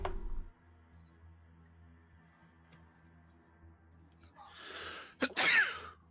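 After a long quiet stretch with faint background hum, one sharp sneeze bursts out near the end, close to the microphone and loud.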